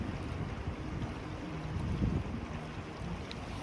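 Wind blows outdoors beside the Yellowstone River, a steady rushing roar that buffets the microphone, loud and continuous with a brief gust, and no talk.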